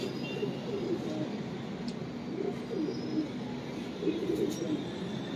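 Soft, low pigeon cooing repeats in a steady rhythm over a constant outdoor murmur, fairly close.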